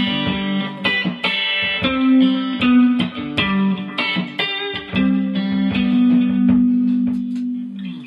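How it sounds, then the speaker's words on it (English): Electric guitar playing variations on a pull-off lick from a song, a steady run of quick plucked notes with sustained low tones underneath, close and fairly loud with light effects, no talking. "Measures 10, 11, and 12 have some nice variations on the pull-off lick"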